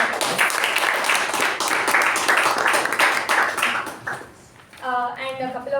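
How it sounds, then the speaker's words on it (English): An audience at a meeting breaks into applause, dense clapping that holds for about four seconds and then fades. A voice begins speaking just as the clapping dies away. "Let's give it a huge round of applause."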